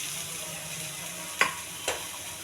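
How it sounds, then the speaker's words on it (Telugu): Grated carrot frying in a pan, a steady soft sizzle with faint stirring and two brief louder scrapes of a utensil, no talking. "దీన్ని కొద్దిగా దోరగా వేగించుకోవాలి, మాడకుండా వేగించుకోండి."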